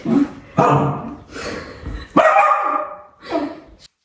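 A pet dog barks at home in a series of sharp, loud, close barks and yips, some rising into a whine, coming in irregular bursts with brief pauses between them.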